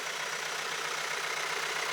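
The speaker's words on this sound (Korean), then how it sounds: "그냥 엔진 소리밖에 안 들리죠." A car with a dual-clutch transmission in good condition idles smoothly, giving a steady, even engine hum and hiss with no knocks or rattles, recorded close and with no voices.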